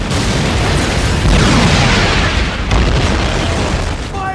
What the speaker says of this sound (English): throw a few grenades to destroy the anti-aircraft gun